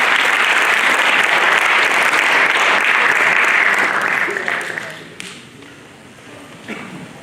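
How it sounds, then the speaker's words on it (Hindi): Theatre audience at a national drama festival clapping in a dense, loud burst that holds steady for several seconds, then thins out and fades, with a few scattered claps after. "तालियों की कर्कश ध्वनि सुनाई देनी चाहिए।"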